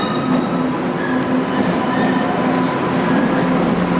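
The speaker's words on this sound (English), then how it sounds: "If you look above, you'll see the trains passing over your head." Boston subway trains rumble past overhead in an underground tunnel, a steady loud rolling roar with faint wheel squeal and rail hum throughout, no voices.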